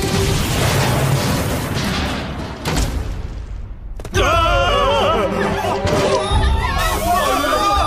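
A cartoon explosion from the Korean animated series Fire Robo bursts with a heavy boom and crackling debris, then gives way to shouting voices and chaotic crowd noise in a dense, loud mix.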